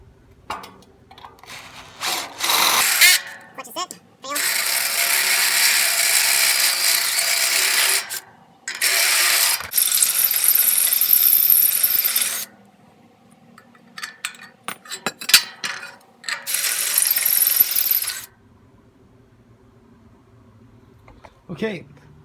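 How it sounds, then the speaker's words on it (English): A unibit step drill bit bores holes in metal plate for a Certa flat welding table, with several loud whining drilling bursts separated by pauses, close by, and a person speaking intermittently between them. "now it's time for the unibit."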